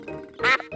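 A cartoon duck quacks at a small duck pond, one loud, bright quack standing out after softer animated ambience.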